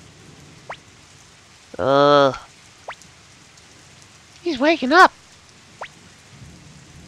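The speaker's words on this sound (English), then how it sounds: "It won't stop raining. It's a nasty rain." Steady rain falls in the video game Suikoden, a continuous wash of noise that runs under two short spoken lines and a few brief clicks.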